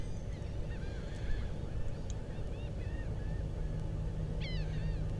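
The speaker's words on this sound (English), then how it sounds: "Just checking out the ducks, making sure they're not decoys." Ducks calling out on the water in South Texas, a scatter of short honking quacks at moderate distance over a steady low rumble of wind and engine-like background noise.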